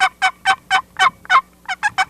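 Box call imitating an excited hen turkey cackle: a loud, close run of about ten sharp, rapid clucking notes, evenly spaced with a brief pause before the last quick three.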